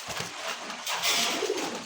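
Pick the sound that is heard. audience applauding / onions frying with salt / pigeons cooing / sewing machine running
pigeons cooing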